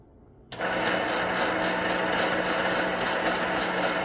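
An L.E.M. meat grinder starts abruptly and runs at a steady, dense mechanical whir while grinding dry-aged venison, loud and continuous with no talking.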